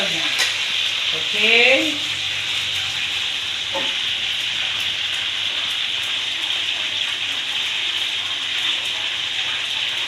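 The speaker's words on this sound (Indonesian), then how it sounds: "menggoreng ikan tongkol supaya cantik hasilnya" Tuna sizzles steadily in hot oil, a constant bright crackle close up, with a brief stirring clatter and one short spoken word early on.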